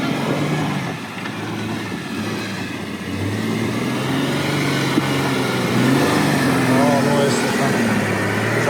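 Jeep Wrangler JK Rubicon with both axle lockers engaged, engine revving steadily under load as it climbs a steep off-road hill, loud and continuous with people talking over it.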